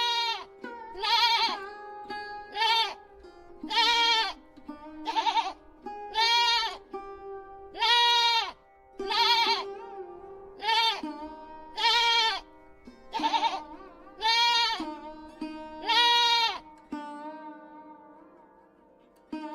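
Goats and sheep in a cartoon forest let out about a dozen loud, close bleats in a steady, rhythmic series, each a wavering nasal cry with short gaps between them.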